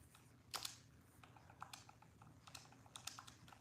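Quiet computer keyboard typing, with scattered faint key clicks and a couple of slightly louder bursts over a low background hum; no one speaks.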